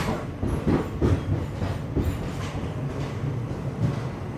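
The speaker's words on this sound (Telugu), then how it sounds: "ఇక్కడ స్టాప్ వచ్చేసి 5 నిమిషాలు అయితే ఉండింది, బయలుదేరిపోయింది." Shirdi to Tirupati weekly express, train 17418, pulling out of Nagarsol station. It gives a steady close rumble of rolling carriages with faint clickety-clack from the wheels, alone with no voices.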